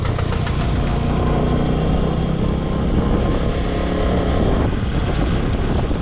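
A walking tractor's engine runs on a rural road in Laos, a loud, continuous, rough mechanical drone close by that holds steady throughout with no talk over it.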